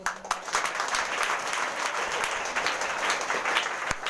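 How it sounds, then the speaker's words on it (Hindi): Loud, sustained applause from a church congregation at a Sunday prayer service, dense clapping filling the whole stretch without pause. "जोरदार ताली से"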